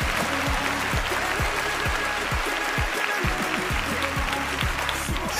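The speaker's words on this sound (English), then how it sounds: "Can we show a claps on Kwajika Rolana" Steady studio applause for a guest on the Apex One Radio show, a continuous broadband patter running the whole time over a pulsing, evenly spaced low beat.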